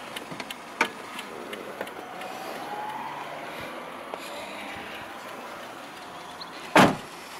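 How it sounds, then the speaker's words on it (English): Fuel flap of a 2005 Toyota Yaris 1.3 VVT-i being opened: a single sharp click near the end, after a quiet stretch with a faint earlier tap. "Open up the fuel flap."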